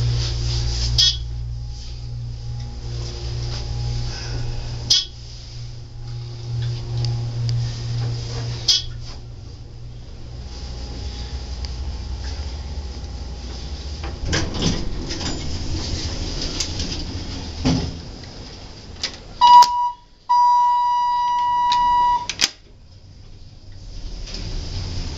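A Dover elevator car at a Hampton Inn in Fayetteville, North Carolina, hums steadily as it travels between floors, with a few clunks and a closing door near the end, followed by a pair of electronic chime tones.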